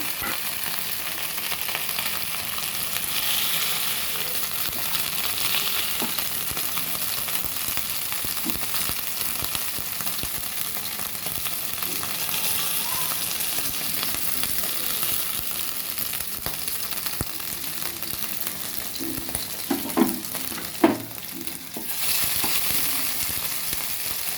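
Chicken pieces fry in a pan until browned for a chicken sandwich, giving a continuous even sizzle with a few soft utensil clinks toward the end and no voices.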